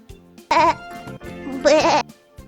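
Two loud sheep bleats, each wavering and about a quarter second long, separated by a pause, with a faint musical background underneath.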